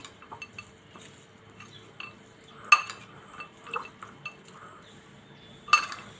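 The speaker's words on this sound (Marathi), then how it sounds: "ती फोडणी घालणार आहोत मिक्स करून घेऊया" A spoon mixes dadpe pohe (flattened rice) with tempering in a bowl, giving scattered light clinks and scrapes, with two sharper metallic knocks against the dish in a quiet kitchen.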